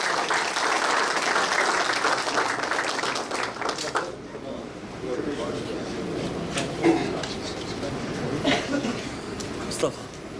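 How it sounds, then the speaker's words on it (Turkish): Applause for Ramazan Bey at a public gathering, a crowd clapping strongly at first, then thinning into scattered claps with voices and some chuckles mixed in. "Bir alkışlayalım bakalım Ramazan"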